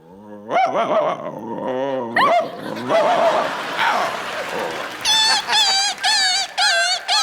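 A man imitates dogs barking, growling and fighting, voicing loud, close yelps and snarls one after another, ending in a quick run of sharp barks.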